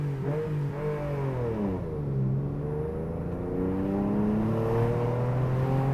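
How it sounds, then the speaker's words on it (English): Porsche engine revving up and down through its range, the exhaust note rising, dipping and climbing again, heard from close inside the car with the window down. "The exhaust note on this car, incredible when you've got the window wound down. You really need to rev it."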